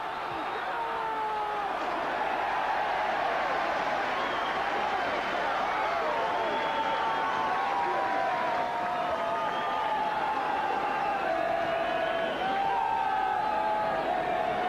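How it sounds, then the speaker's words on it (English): Rugby crowd at Llanelli versus Australia, 1984, roaring steadily as the home side attack inside the 22, a loud, sustained swell of cheering that fills the whole stretch with no break. "if that's the roar that greets Llanelli going inside the 22"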